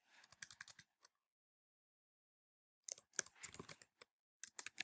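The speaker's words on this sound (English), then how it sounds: "I'm going to type in this next one." Computer keyboard keys clatter in quick, close bursts of typing, separated by a silent pause of nearly two seconds.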